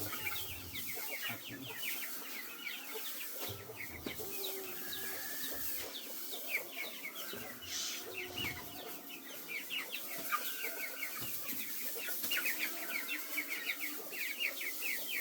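A flock of farm chickens clucks and chatters continuously in a sunny spot, many overlapping short calls near and far, with occasional soft knocks and rustles.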